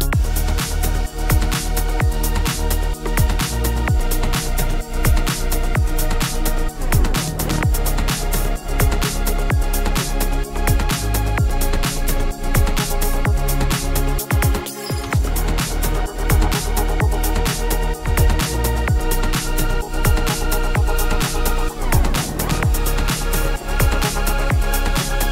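Stutter house drop driven by hardstyle chords, with a looping shaker and cymbals riding on top; dense, loud and continuous, with a brief dropout near the middle before the full mix returns.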